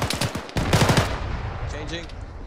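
Rapid gunfire from the Arma 3 battlefield crackles in a couple of close bursts, then trails off into fainter echoing shots as a voice comes in over the noise.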